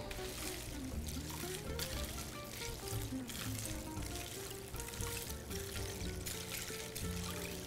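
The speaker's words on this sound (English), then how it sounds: "we are going to pour in our brine." Brine pours into a bowl over ice for brining pork chops, a close, continuous liquid pour with a steady trickling wash throughout.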